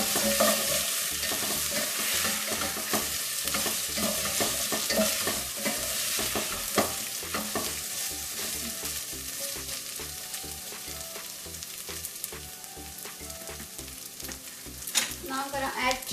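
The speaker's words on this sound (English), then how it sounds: "We're gonna fry for a little while." Garlic and ginger paste fries in a pan for a cauliflower and potato dish, a continuous close sizzle with rhythmic scraping and stirring strokes throughout, no talking.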